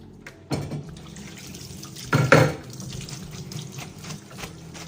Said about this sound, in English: Kind of al dente when you taste it, because you do want it to still be able to absorb the sauce. So in the strainer it goes.